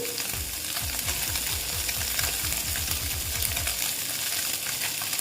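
Onions frying crisp in a pan for a small-fish dish, loud steady sizzle with a quick repeated scraping stir for several seconds, then the stirring stops and only the frying hiss continues.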